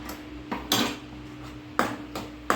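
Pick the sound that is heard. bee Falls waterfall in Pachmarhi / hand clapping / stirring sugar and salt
stirring sugar and salt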